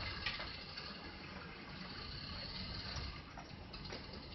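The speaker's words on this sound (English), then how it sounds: "Not sure where that's dripping" Rain water dripping somewhere outside, a steady wet patter with scattered ticking drops, moderately quiet and continuous, with no voices.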